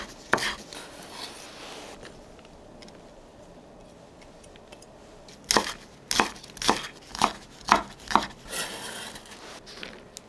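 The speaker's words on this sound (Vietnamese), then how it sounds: "Hành lá thì mình cắt nhuyễn đầu hành để xào cùng" A knife chops green onions finely on a cutting board, a few scattered knocks early and then a steady run of about eight crisp, evenly spaced strikes, close and fairly loud with no talking.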